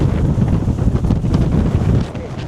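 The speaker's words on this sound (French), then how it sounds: "Je ne me rappelle pas avoir été aussi violemment soufflé dans ma vie." Strong, gusty wind buffets the microphone on a hike at Con Dao, a loud continuous roar that swells and dips throughout.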